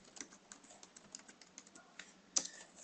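Rapid clicking of a computer keyboard while C++ code is entered, a steady run of close, light keystrokes with one louder clack near the end, no voices.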